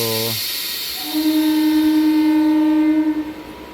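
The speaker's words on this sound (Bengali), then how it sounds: "ফাইনালি ট্রেন ছেড়ে দিল তো" A night local train sounds its horn, a short blast and then a long sustained one, over the low rumble of the train pulling out of the station.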